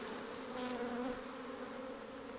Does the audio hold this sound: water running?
no